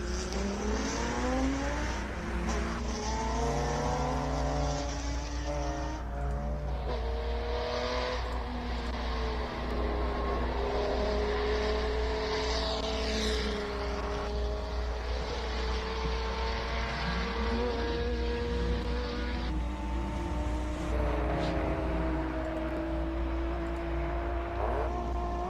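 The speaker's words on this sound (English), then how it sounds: "Just listen to this Datsun." A Datsun race car engine at a hill climb roars and revs continuously, pitch rising and falling through gear changes, loud and sustained throughout.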